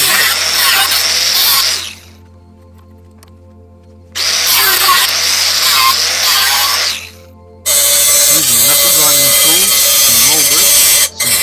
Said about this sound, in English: I ground down the metal sides, which are slightly, more circular than they were when they started